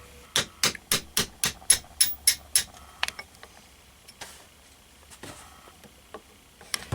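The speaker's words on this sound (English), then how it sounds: "we're going to want to drive this pin through" Hammer driving a pin through a Mauser rifle part: about ten crisp evenly spaced metallic taps in quick succession, then a few scattered clicks and light handling noises, close and clear with no talk.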